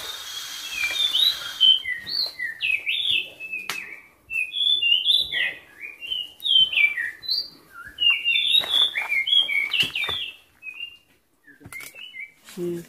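Forest birds on Mount Pangrango chirp and trill in quick, bright phrases, near and fairly clear, with short pauses and faint background rustle.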